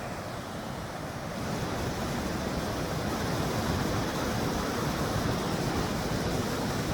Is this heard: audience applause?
no